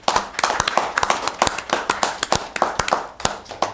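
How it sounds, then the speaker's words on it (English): At a town board meeting, an audience gives a round of applause: a close, fairly sparse burst of sharp individual hand claps in uneven rhythm, carrying on for a few seconds. "let's give her a round of applause"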